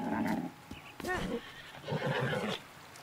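A horse in the video game The Legend of Zelda: Breath of the Wild gives a loud, close whinny, heard amid other game sounds and a person talking.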